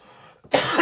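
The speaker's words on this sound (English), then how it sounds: "I got a cough." A single sharp cough bursts out close to the microphone after a brief quiet intake of breath.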